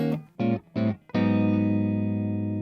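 James Tyler electric guitar with the mid boost switched off: two short picked chord stabs, then a full chord rung out and left to sustain with a bright, slightly effected tone, played alone and close.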